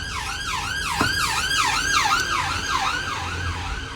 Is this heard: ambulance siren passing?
yes